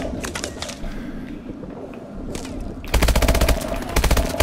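Gunfire in Call of Duty: Advanced Warfare starts with faint scattered shots, then breaks into a loud, rapid automatic burst for the last second and a half. No voices are heard.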